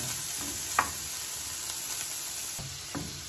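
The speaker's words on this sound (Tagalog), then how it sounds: "Ayan, nilagay ko na yung onion, tapos isusunod ko na yung bawang, tapos yung kamatis, tapos yung bagoong." Onion and garlic sizzle steadily in a hot pan while pakbet is being cooked, a continuous frying hiss with a few brief stirring clicks and scrapes, heard alone without talk.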